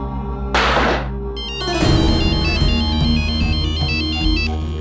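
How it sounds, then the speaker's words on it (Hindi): A phone ringtone plays during an outgoing call in a police-station setting, a close electronic melody of repeating tones over a low hum after a brief whoosh. "एक काम करो, फोन लगाओ उस राजवीर को"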